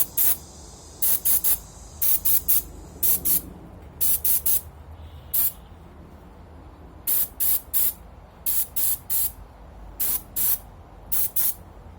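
A spray gun lays a Durablue coat on a Savage/Fox Model B gun part, with short, sharp hissing bursts repeated in quick clusters and brief silences between them.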